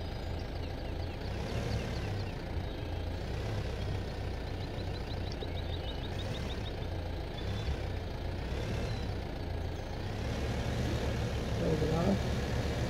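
Tractor engine in Farming Simulator 2015 droning steadily for the whole stretch, a low continuous rumble with faint mechanical whine, with a person talking over it.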